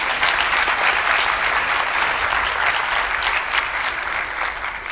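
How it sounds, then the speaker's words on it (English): Graduates at a university graduation ceremony applaud their parents, partners and supporters in a large hall. The clapping is full and sustained, and its even roar runs through the whole stretch. "graduates, I now request you to applaud your parents, partners, and others who had supported you during your studies"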